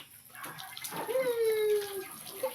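Shower water running at a family cabin, a steady rushing spray with a voice speaking over it close by.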